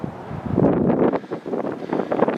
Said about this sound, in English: It's windy, so I'm hoping my voice,